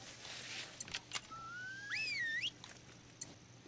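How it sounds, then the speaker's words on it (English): Animal-call whistle in the hunting game Call of the Wild, a rising then wavering tonal whistle that sounds near and clear over faint clicks and soft background noise, with no talking. "I accidentally held down the whistle button that they can hear."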